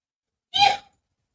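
A single short, sharp sneeze bursts out close by, then silence.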